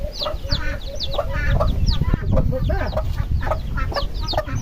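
A mother hen clucks steadily among her peeping chicks, with soft overlapping clucks and high chick cheeps filling the scene continuously at close range.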